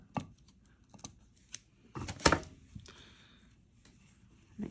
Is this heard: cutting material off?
yes